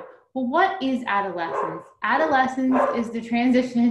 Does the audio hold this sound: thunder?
no